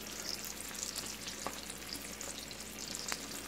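Chicken breasts fry slowly in a pan, rendered fat crackling in a quiet, continuous sizzle with a couple of small pops, heard close with no voices.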